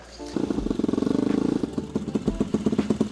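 Engine of a 220cc turbo mini jeep idles with rapid, loud pulsing exhaust putter close by, then settles into a choppier, uneven rhythm with low thumps.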